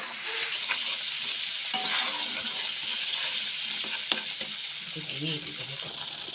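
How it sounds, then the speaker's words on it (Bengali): Onion and garlic paste sautés in hot oil for a Bengali jackfruit and prawn dish, making a continuous close sizzle broken by spatula scrapes and small pops, with no speech. "এখন খুব ভালোভাবে পেঁয়াজ রসুনটা কষিয়ে নেবো"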